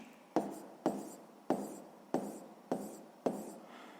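Pen or pencil writing out a multiplication of 16 by 12 by hand, heard as six sharp, evenly spaced strokes, each with a short scratchy tail. The strokes are close and fairly loud, with no talking.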